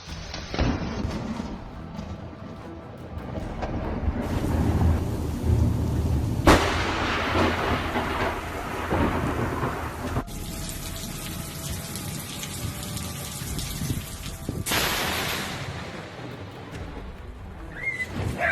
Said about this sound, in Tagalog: isang tama lang ng kidlat ay nadurog ang punong kahoy